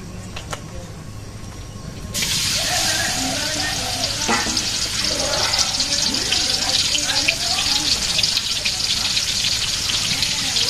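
Fish frying in a pan: after a quiet start, a loud crackling sizzle bursts in and holds steady close by, with a voice talking underneath.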